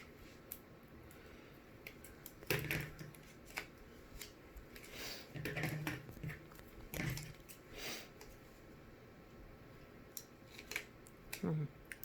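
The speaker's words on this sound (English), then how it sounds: "These are really not great scissors." Dull scissors snipping through paper for a DIY notebook cover, a few uneven crunchy cuts and rustles spaced apart, fairly quiet and close, with faint speech in places.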